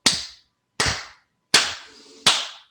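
Four sharp, close hand claps spaced at an even, deliberate pace, each ringing briefly before silence, with no voices.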